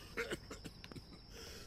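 Man coughing in the video game Dead Synchronicity, a couple of quiet rough coughs and throat clearing close by, with a steady faint hum underneath.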